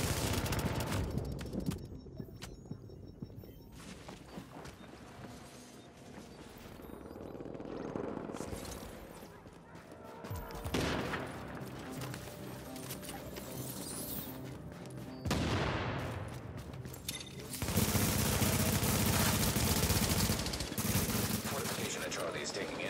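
Dense, sustained video game gunfire with bursts of automatic weapons and heavier booms during a Last Stand match, loud and continuous with brief lulls and occasional voices underneath.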